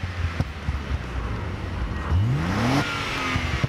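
A Lotus Carlton accelerates hard, its engine note climbing steadily in pitch for under a second before easing off, heard at moderate distance over a wind-blown background.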